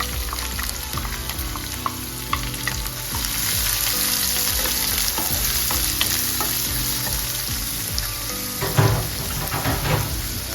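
Finely chopped onion sizzles loudly in hot oil for a tuna masala, a dense continuous crackle close by with occasional stirring knocks near the end.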